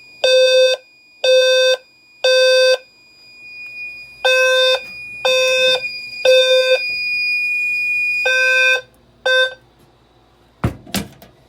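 A Fire-Lite/Notifier fire alarm panel sounds in loud, repeating tonal bursts with short gaps between them, a steady high tone running beneath, then a sharp clunk at the end.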